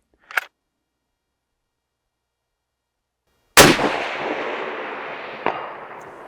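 A single precision rifle shot fired from an urban prone position with factory ammunition cracks loudly and rolls into a long echoing decay, with a faint metallic ping as the round strikes a distant 10-inch steel plate; a short click comes first.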